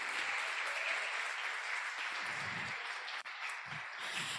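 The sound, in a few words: congregation applause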